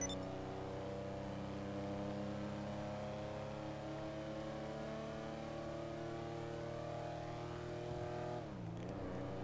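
A JB700 sports car engine in GTA V revs hard and climbs through successive gears, with steady harmonic tones rising and dropping at each shift, loud and close throughout, with a brief dip near the end.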